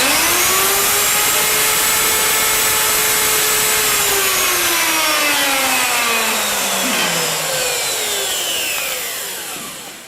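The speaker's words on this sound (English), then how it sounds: "Now it's a matter of just turning on the router." A wood router runs on a turning contraption, a loud continuous whine that slowly drops in pitch as it bites into the wood and then fades toward the end.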